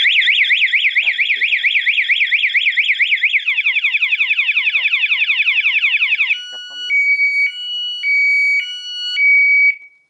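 A loud anti-theft alarm on a Yamaha DTX 250 motorcycle wails in rapid warbling sweeps, then changes to a slower pattern of alternating electronic beeping tones, close by.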